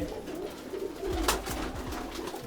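Kalchoche pigeons from Sambhal cooing, soft repeated low coos in a short rhythmic series, faint and close, with a brief sharp rustle in the middle.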